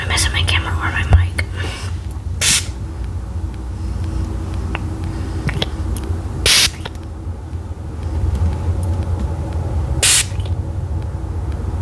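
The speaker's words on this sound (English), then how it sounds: "So I like the spray bottle sound as well." Three short, breathy hisses from a spray bottle aimed away from the microphone, spaced a few seconds apart in a quiet ASMR setting, with soft whispering running between them.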